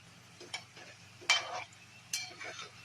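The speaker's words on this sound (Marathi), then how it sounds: "आता मोदक तळायला घेतलेत आणि तेल तापल्यानंतर मंद आच करायची आणि मग मोदक तळायला घ्यायचे" Modak made from maida frying in hot oil over a low flame, giving soft sizzling and a few brief splashy bursts against a quiet background hum.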